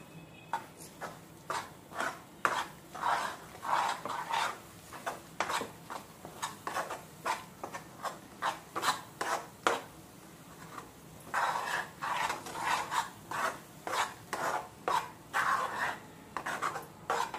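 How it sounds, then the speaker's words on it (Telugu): A spoon rhythmically scrapes and stirs a sweet filling mixture with ghee in a pan, making steady, close rasping strokes about twice a second, with a short pause midway. "ఇప్పుడు దీన్ని ఒకసారి బాగా కలుపుదాం."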